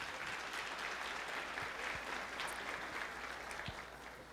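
An audience applauds singers at a spiritual talk event, with steady, continuous clapping from a crowd that holds throughout and eases off slightly near the end.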